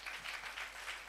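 Congregation applauding at a church service, a steady wash of clapping throughout, fairly loud and close with no talk over it.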